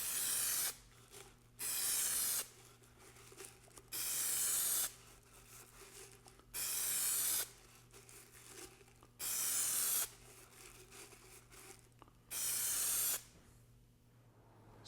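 Spray adhesive hisses onto a model rocket airframe tube for a 1/45 scale Estes Little Joe II, in six steady bursts of about a second each, evenly spaced, close and fairly loud, with quiet pauses between and no talk.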